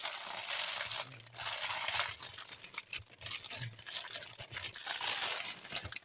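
Plastic packaging crinkling and rustling as a cross-stitch blind box is unwrapped by hand, irregular bursts of close, crackly crunching with brief pauses, fairly quiet.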